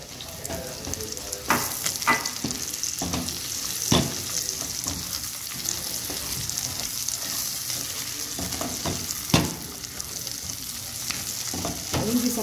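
Paio sausage frying in a hot pan after something has been browned, a steady close sizzle with occasional stirring scrapes and clinks over about twelve seconds, no voices.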